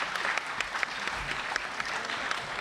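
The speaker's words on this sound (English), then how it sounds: "round of applause for them" Crowd applause at a student general assembly, a steady dense wash of clapping that stays even and moderately loud throughout with no voices standing out.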